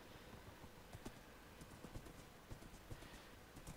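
Horse hooves clip-clop steadily in a video game, a fairly quiet, even rhythm of close hoofbeats continuing throughout with no talking.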